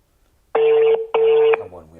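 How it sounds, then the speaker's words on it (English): Two long electronic ring tones in a row, steady and fairly loud, with a short gap between them, followed by faint background sound. "Mwila Musenga, the line is ringing"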